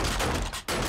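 Rapid gunfire erupts in 7 Days to Die during a blood moon night, a dense, loud burst of shots with a brief gap before the firing resumes.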